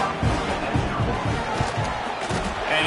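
A stadium crowd at a UGA versus Texas A&M college football game roars in a steady, dense wash of noise, with rhythmic thumps and shouts rising from the stands.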